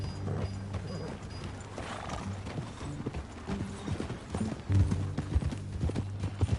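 Horse hooves clip-clop steadily on a ranch, a continuous rhythmic stream of close, moderately loud hoofbeats with a few stronger knocks near the end.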